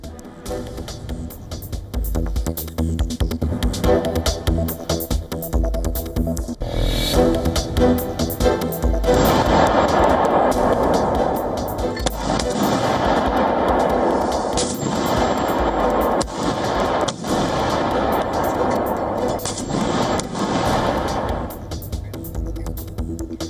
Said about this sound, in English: Fierce fighting and clashes at Afghanistan-Pakistan border after Afghan forces launched attacks on Pakistani border posts